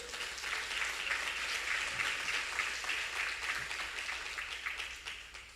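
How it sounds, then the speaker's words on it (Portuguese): A church congregation claps steadily through the whole stretch, a dense wash of many hands at moderate level that fades slightly toward the end, with no voices over it. "Aplaude, ele aplaude."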